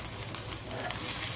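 Green chillies fry in a little oil in a pan for cabbage Manchurian, a soft, close hiss with a few faint pops, brief and without talk.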